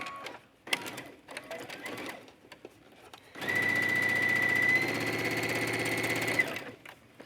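A sewing machine runs a zigzag stitch in a steady, fast mechanical rattle for about three seconds, preceded by brief handling clicks and rustling.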